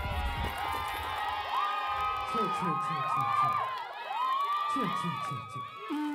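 A concert crowd cheers and shouts together, with high whoops and overlapping voices rising and falling in waves, loud and close throughout.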